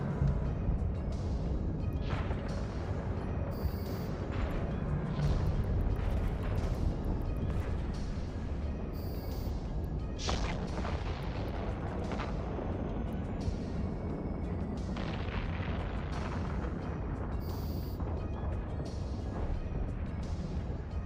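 Ship guns in a space combat game against Guristas in low-security space fire in repeated booming volleys over a steady rumbling engine bed, with sharp high-pitched bursts recurring every few seconds for the whole stretch.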